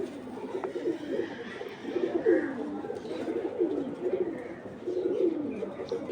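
Giribaz pigeons coo close by in a loft, repeating deep rolling calls in several bursts, with faint speech in the background.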